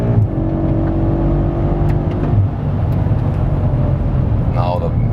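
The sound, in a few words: BMW M5 engine revving to 7,000 RPM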